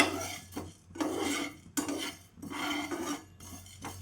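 Pepper, cumin and ajwain seeds dry roasting in a pan, heard as repeated scraping and rattling strokes of a spoon stirring the dry spices against the metal, in bursts about every second, close and fairly loud, with no talking.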